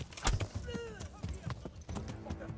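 Horse hooves clip-clop at a steady riding pace in Kingdom Come: Deliverance, close and rhythmic, with a voice talking over them.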